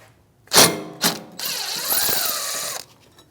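A T30 Torx bit on a power tool removes the small holding screw from a rear brake rotor on a 2016-2025 Chevrolet Malibu: two quick clicks, then a sustained whirring, ratcheting spin lasting over a second, loud and close.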